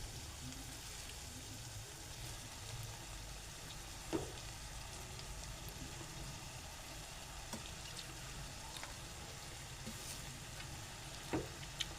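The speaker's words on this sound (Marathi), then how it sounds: "परतून घेऊया" Chopped amaranth leaves sautéing in a pan give a soft, steady sizzle, low and continuous, with a few faint clinks of stirring.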